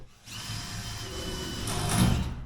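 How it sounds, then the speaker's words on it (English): A power drill whirs steadily near the mic, pre-drilling metal, its pitch rising and straining toward the end as the bit bites in. "because this is metal, I got to pre-drill it even to get anywhere with it"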